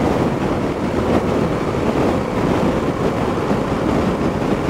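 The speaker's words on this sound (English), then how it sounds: "The wind is picking up, guys." Strong wind buffets the microphone in a steady, loud roar throughout while riding a bike along a road, with no talking.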